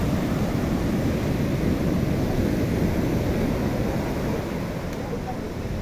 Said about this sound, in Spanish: Está picado el mar, no dejan bañarse ahorita.